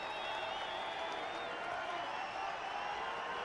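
Baseball stadium crowd at a Red Sox at Angels game, a dense, steady roar of cheering and applause with whistles on top, sustained throughout.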